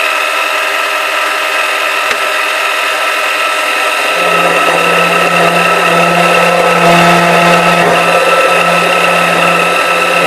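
A lathe parts off a workpiece with a new-style parting tool, plunging only partway so a small knob remains. A steady machining whine runs alone throughout, joined by a sustained low hum partway in as the tool bites.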